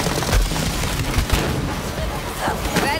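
Gunfire in the video game Borderlands 3: dense, rapid bursts of shots and booming impacts fill the clip continuously, with someone speaking French over the action.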